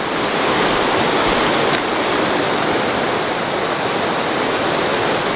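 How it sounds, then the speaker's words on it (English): Clear water of Yola Creek flows in a steady, full rush, a constant close wash of running water with no voices over it. "This is a lovely little creek. Yola Creek, I think it's called."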